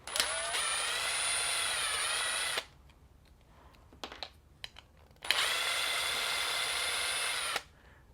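A power drill backs screws out of an Anderson socket housing on an accessory harness, running in two sustained whining bursts of about two and a half seconds each, separated by a quiet gap with small handling clicks.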